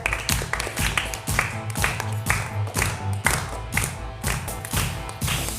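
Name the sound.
audience clapping for a child performer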